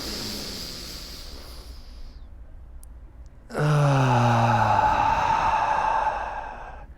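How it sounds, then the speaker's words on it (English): A long, slow inhale through the nose gives way to a deep, audible exhale through the mouth, the release carrying a soft voiced, sighing tone; close and unhurried, with no talking. "long deep breaths in through my nose."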